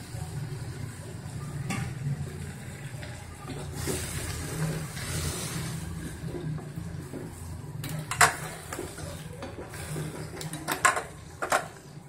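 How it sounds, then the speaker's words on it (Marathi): Brinjal bhaji being stirred in a pan, a low, soft background hiss broken by a few sharp clinks and scrapes of the spoon against the pan near the end. "चांगलं एकजीव हलवायचं।"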